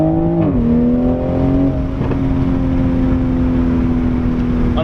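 Close, steady engine drone of a 2020 Toyota Supra pulling away, the pitch stepping down after an early gear change and then holding a smooth, even hum under road noise.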